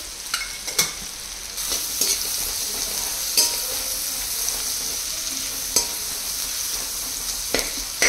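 Sliced onion fries in a pan with a steady sizzle, repeatedly interrupted by sharp scraping stirs of a spatula; no talking.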